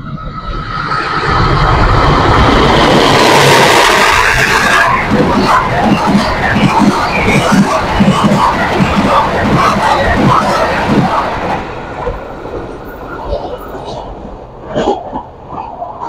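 The Argo Wilis passenger train passes near Delanggu station, arriving from the north with a loud, sustained rushing rumble that builds and then fades, under crowd noise and people talking.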